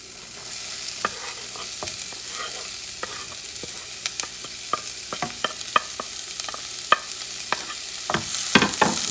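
Onions frying in a small amount of extra virgin olive oil, a soft continuous sizzle with frequent clicking and scraping from stirring, close and fairly quiet.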